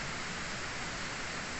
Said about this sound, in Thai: ลำคลองนี้เสียงน้ำไหลบ่พี่น้อง